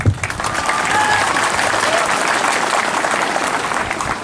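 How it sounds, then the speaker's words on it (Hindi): Applause from a community gathering audience, a sustained, even wash of many hands clapping together at full loudness throughout, close by and without talk on top. "अरे हम लोग का बुरुई को भी ताली करो यार।"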